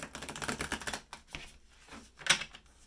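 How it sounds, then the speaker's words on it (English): Rapid crisp riffling of cards being shuffled, a burst of quick ticking flutters, then a few separate taps and a sharp snap, close by. "Let's do one more shuffle"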